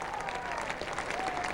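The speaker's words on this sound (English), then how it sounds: "he's applauded off the field now, a standing ovation for the man who's done well for so many years" Steady applause from a cricket crowd at Trent Bridge during the 1981 England v Australia Test, honouring Bob Willis's 200th Test wicket as he is cheered off the field; dense, continuous clapping with a commentator talking over it.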